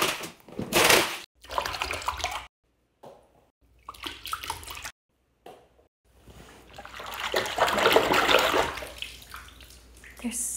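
Water sloshes and splashes in a tub as a basket of grimy stress balls is washed, coming in several bursts with short silent gaps between, close and fairly soft, with some speech in places.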